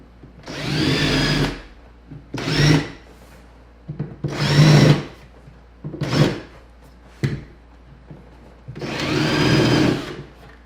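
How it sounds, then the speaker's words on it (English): A power drill with a countersink bit bores into wood during upper kitchen cabinet installation, running in five separate whirring bursts of about one to two seconds each, close and loud with short pauses between. "So now switch your bit and put your countersink bit in."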